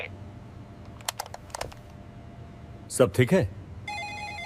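A telephone rings in short electronic bursts near the end, heard indoors under and after talk, with a few clicks and taps earlier.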